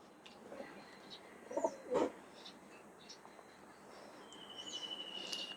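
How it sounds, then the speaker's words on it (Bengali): Pigeons in a small flock of eight give a few soft, low coos, faint and somewhat distant, with a brief cluster of calls near the start and a quiet outdoor background. "এখানে মোট 8 পিস কবুতর আছে।"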